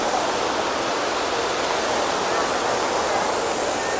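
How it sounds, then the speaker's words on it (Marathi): A steady, dense roar of falling water from the Savdav waterfall in Kankavli, Konkan, fills the air, constant and loud without pause. "तो बघ धबधबा"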